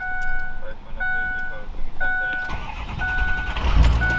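A car engine cranking without catching while valve seals are being changed, with repeated beeping chimes and a low churning rumble that builds toward the end. Voices talk over it.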